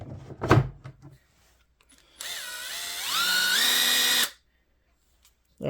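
A Bosch impact driver runs on its variable speed trigger, a short whining spin-up that climbs in pitch in steps over about two seconds, then cuts off, preceded by a brief clack and followed by silence.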